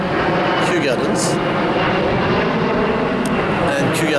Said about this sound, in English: There's a plane going over because we are in Kew Gardens.